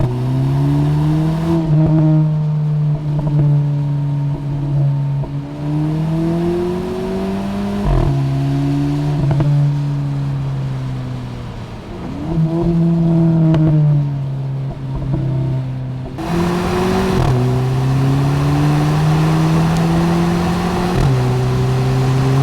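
A VW Polo GTI engine and exhaust rev hard over and over, loud and close, each long rising pull dropping back before climbing again, with no talking.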